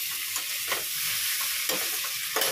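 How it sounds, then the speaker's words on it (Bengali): Poppy seeds fry in a pan for a home-cooked meal, giving a steady close-up sizzle with soft scraping stir strokes every half second or so. No one speaks. "দেখো এখানে পোস্তটা বসিয়ে দিয়েছি, পোস্তটা হয়ে গেছে, একটুখানি ভাজা করে নিচ্ছি"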